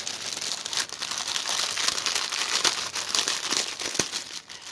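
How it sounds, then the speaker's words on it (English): Loud, close crinkling and rustling of the plastic bag from a pre-stamped cross stitch kit, steady and continuous for a few seconds with no voices. "lose the bag because it makes a lot of noise"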